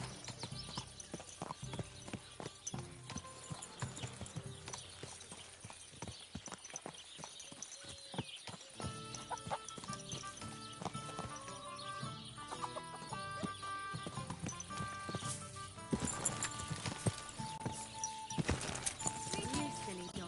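Horse hooves clip-clop steadily through a busy medieval village scene in Kingdom Come Deliverance, mixed with clucking chickens, an occasional whinny and bits of talk, all fairly loud and continuous.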